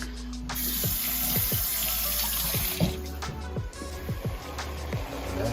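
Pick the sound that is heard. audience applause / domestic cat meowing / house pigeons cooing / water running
water running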